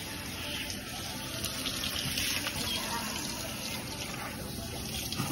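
Water sprays steadily from a hose at a self-wash station during a Bernese Mountain Dog's bath, a constant close hiss and splatter that runs throughout at moderate level.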